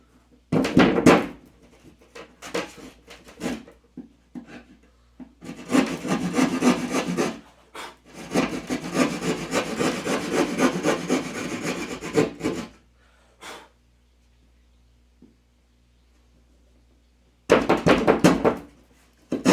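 A J-bar scrapes and knocks against a drywall sheet in several bursts of rough rubbing and thudding separated by short pauses, close and fairly loud.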